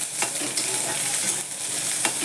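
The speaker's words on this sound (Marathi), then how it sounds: "एक कांदा टाकते खूप पण नाही भाजून द्यायचा" Onion frying in a pan, a continuous close sizzle with brief scraping strokes of a spatula stirring at intervals, fairly loud and with no speech.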